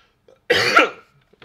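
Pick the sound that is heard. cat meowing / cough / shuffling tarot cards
cough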